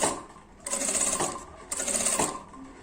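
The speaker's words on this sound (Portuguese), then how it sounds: "E faz só uma costura reta em todo esse comprimento." A sewing machine runs a straight seam along a length of bias binding, two loud, close bursts of rapid mechanical stitching separated by short pauses, with no talking.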